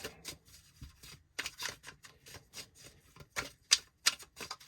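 Tarot cards being shuffled by hand in a series of quick, crisp riffles and taps, close and fairly quiet, in short irregular bursts with no talk.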